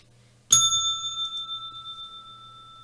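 A single bright bell strike rings out clearly and alone, its clear metallic tone sustaining and slowly fading over a couple of seconds with no other sound.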